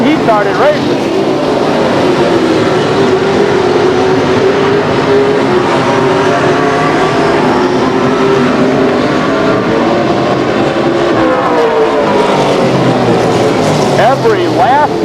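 Race cars accelerating together at the green flag on a racing circuit, a loud, continuous engine roar with rising and shifting pitches, heard under commentary voices.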